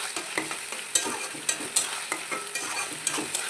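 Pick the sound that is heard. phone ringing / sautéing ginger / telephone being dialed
sautéing ginger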